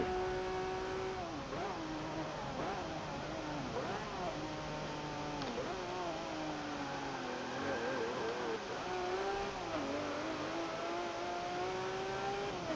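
A Lamborghini Murcielago SV engine while racing, a steady droning roar that rises and falls with gear changes and revs, continuous at moderate loudness.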